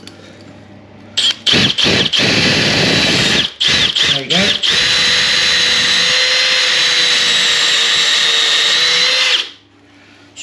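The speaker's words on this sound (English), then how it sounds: "this tile drill bit is brilliant" A power drill fitted with a tile drill bit bores through bathroom tile, starting in short bursts and then running loud and steady for several seconds before stopping; someone speaks briefly during the drilling.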